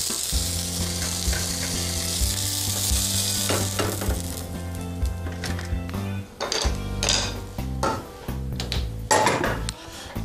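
Meat sears in a frying pan, browned on all sides before going into the oven, giving a crackling sizzle with occasional clinks of utensils against the pan, all under steady background music.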